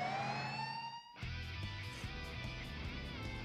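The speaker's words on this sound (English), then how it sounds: "the police vehicles split off into two separate groups as their sirens blared out" Police car sirens wail loudly and continuously, rising tones giving way to a pulsing multi-siren blare with engine rumble beneath.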